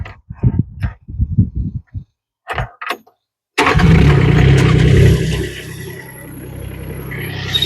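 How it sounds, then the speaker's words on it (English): After a few brief clicks and cranking sounds, the engines of Rippa R18 and JoyT5 JT5200 mini excavators turn over and catch, settling into a loud, steady running rumble close by. "Matt, let's start the engines."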